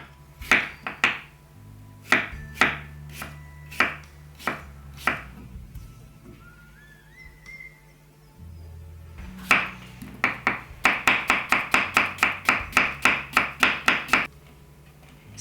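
A knife chopping small Pink Lady apples into very thin pieces on a board, with crisp separate strikes: a slow irregular run, a short pause, then a quick even burst of a dozen or more close chops.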